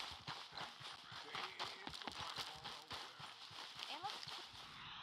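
Horse hooves clip-clop in a steady walking rhythm in the Red Dead Redemption 2 video game, close and clear, while voices talk over the hoofbeats throughout.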